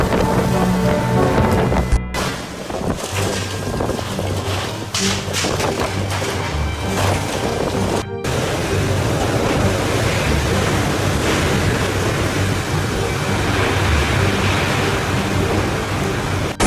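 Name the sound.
howling wind and torrential rain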